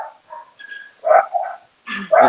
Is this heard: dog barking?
yes